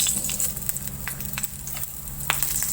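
Green chilies sautéing in a hot pan, a continuous close sizzle and crackle with scattered sharp pops and stirring scrapes, fairly loud throughout.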